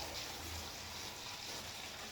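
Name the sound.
water being poured into a container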